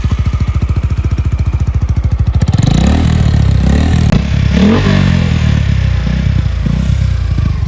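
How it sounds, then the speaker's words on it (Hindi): A Suzuki Gixxer 150 motorcycle being push started: a rapid mechanical thumping for the first couple of seconds, then the engine catches and settles into a loud, close, steady running drone with some clatter. "इसका पुश स्टार्ट है, इसका साउंड चेक करें।"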